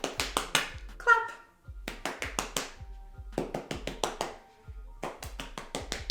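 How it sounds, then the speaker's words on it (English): Hands coated in hair oil clap through curly hair to break up product crunch, a series of sharp close slaps in quick bursts with short pauses between, and a few faint vocal sounds in between. "with the hair oil on my hands, clap the crunch out of my hair"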